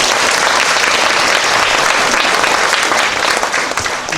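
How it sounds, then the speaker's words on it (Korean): Sustained loud applause from a church congregation at a pastor's installation service, dense clapping throughout that tapers slightly near the end. "네 분의 우리 목사님과 장로님께 다시 한번 큰 박수를"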